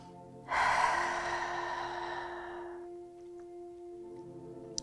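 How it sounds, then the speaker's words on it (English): A single deep belly breath during a hatha yoga session, a long, soft airy inhale-exhale that starts abruptly, fades over about two seconds, then leaves quiet room tone. "you can release the breath retention and start taking deep belly breaths"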